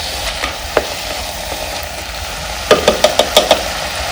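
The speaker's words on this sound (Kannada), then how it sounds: "ಈ ನುಗ್ಗೆ ಸೊಪ್ಪು ಚೆನ್ನಾಗಿ ಎಣ್ಣೆಯಲ್ಲಿ ಫ್ರೈ ಆಗಬೇಕು" Drumstick leaves fry in oil on a village stove with a steady crackling sizzle, while a ladle stirs and knocks against the pan, quiet at first and then a quick run of six taps near the end.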